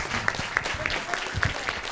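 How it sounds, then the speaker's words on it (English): Audience applause at a clinical microbiota lecture as a speaker departs, with a continuous wash of clapping from a seated crowd, moderately loud, with a few sharper individual claps standing out. "it's a big applause to her"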